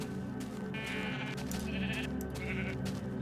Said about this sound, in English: I see a bunch of sheep over here.